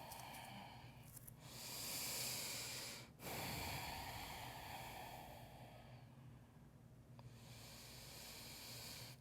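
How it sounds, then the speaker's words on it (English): Slow, steady breathing held in a yoga downward facing dog pose, with long broad hissing breaths rising and falling close by, one sharp break near the middle, and no talking. "Breathing here."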